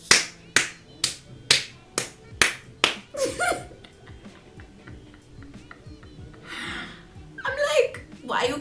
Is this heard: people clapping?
yes